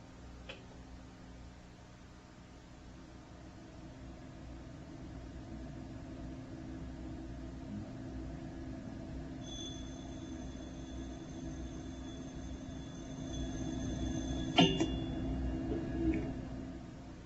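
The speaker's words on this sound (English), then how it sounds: "we can hear this corona discharge as it starts as the voltage is raised" Corona discharge from a fine high-voltage wire in an electrostatic precipitation demonstration starts as a faint, rising hiss. Thin high whining tones join midway, and a few sharp crackles come near the end.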